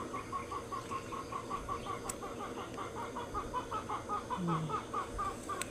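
A chicken clucks in a steady, rapid series of short calls against a noisy outdoor background, fairly close.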